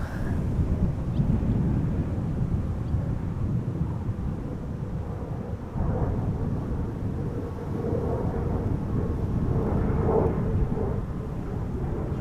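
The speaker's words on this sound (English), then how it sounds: "Bombardier C-Series is passing overhead" A Bombardier C-Series jet passes overhead on arrival at Amsterdam Schiphol in crosswind, giving a loud continuous low roar with wind buffeting that holds steady for about twelve seconds and has no voices.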